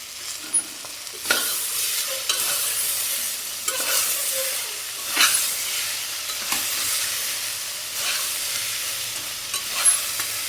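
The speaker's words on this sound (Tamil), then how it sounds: "கேரட், உருளைக்கிழங்கு, அடுத்து தக்காளி. இப்போ இதெல்லாம் போட்டு ஒரு வணக்கிக்கலாம்." Carrot, potato and tomato sautéing in a pan for vegetable kurma, a steady sizzle broken by repeated scraping stirs of a spatula, close and fairly loud, with no voices.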